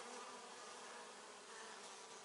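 Dense swarms of honeybees buzz loudly and continuously around a hive in a steady, close droning hum.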